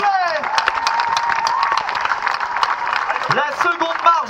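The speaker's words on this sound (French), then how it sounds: "On peut les applaudir plus fort que ça" Audience at a sailing regatta prize-giving in Trégastel claps and cheers steadily, a dense crowd noise with shouts and voices mixed in throughout.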